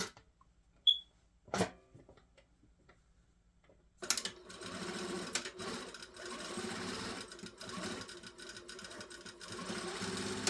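A sewing machine stitches down a trouser waistband: a few brief clicks, then a steady close mechanical whirr running continuously for the last six seconds or so with slight pulses in speed.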